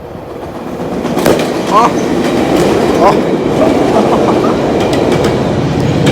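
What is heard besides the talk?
train passing by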